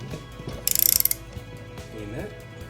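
Ratchet clicking in a quick burst of about ten ticks while tightening a bolt on a shock absorber of a first-generation Toyota Tacoma, close and fairly loud, followed by quieter workshop noise.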